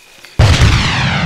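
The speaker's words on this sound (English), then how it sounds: "So a grenade on three." Frag grenade detonating in a cooperative military shooter game, a sudden loud boom after a brief quiet moment, followed by a rumbling decaying tail.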